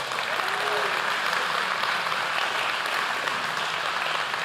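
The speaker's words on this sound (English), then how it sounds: "Could you just give them a round of applause?" Sustained, even applause from a large audience at a church or community gathering, a dense wash of clapping that stays steady and fairly loud throughout.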